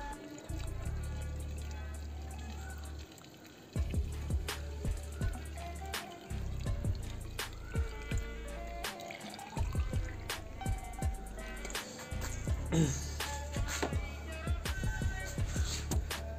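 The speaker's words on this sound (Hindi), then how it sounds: "तो देख लेते दोबारा से पानी डालते हैं।" Water trickles and splashes as it is poured into a Tata Punch windshield washer reservoir, with drips and intermittent gurgling, close by and moderately loud.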